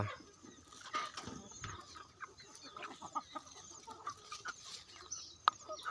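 Jungle fowl clucking outdoors, soft scattered clucks and short calls from several birds at moderate distance, faint and intermittent against a quiet rural background.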